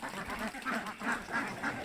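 A flock of Khaki Campbell and Pekin ducks quacking nearby, a run of repeated nasal quacks overlapping in a loose rhythm.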